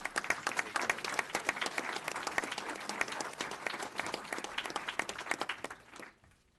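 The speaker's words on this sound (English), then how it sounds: "Let's give her a round of applause before she comes up." A crowd claps in a sustained round of applause for several seconds, then the clapping thins and fades out.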